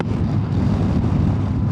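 Steady wind buffeting a microphone while riding along a breezy stretch of the Peak District, a dense, continuous low rumble with no letup and no voices.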